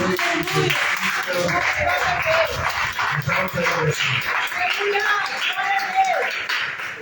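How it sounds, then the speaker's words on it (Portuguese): A Pentecostal church congregation claps in worship, a steady dense patter of hands mixed with cheers, shouts and voices throughout, loud and close. "Aplauda o Senhor essa noite."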